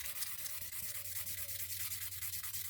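Stone, carnelian or smoky quartz, rubbed by hand on worn silicon carbide sandpaper, a close, continuous gritty rasp with steady back-and-forth strokes and no voices.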